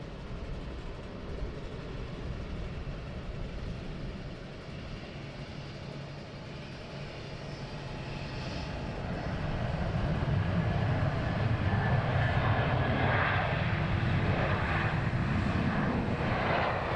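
A Wizz Air airliner landing at London Luton Airport, its broadband jet roar steady and distant at first, then swelling louder and closer as it comes down, with a faint whining engine tone above the rumble.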